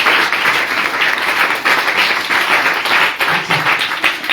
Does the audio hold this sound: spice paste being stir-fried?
no